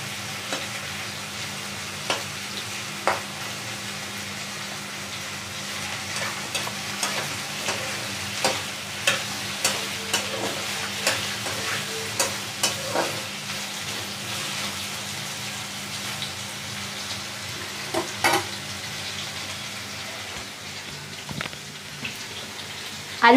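Potatoes fry in a pan with a low steady sizzle, while a spatula scrapes and taps at a loose, irregular rhythm throughout.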